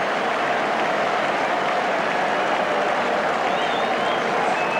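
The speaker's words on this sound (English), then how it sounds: "The crowd enraptures." Large rugby stadium crowd at an England versus Argentina match roars and applauds after an England try, a continuous loud wash of cheering and clapping with occasional whistles and shouts rising above it.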